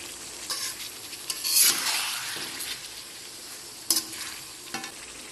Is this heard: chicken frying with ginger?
yes